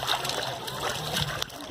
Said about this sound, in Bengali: সানু নদীতে স্নান করছে